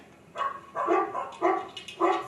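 Several dogs on a group dog walk bark in a quick series of four or five loud, close barks.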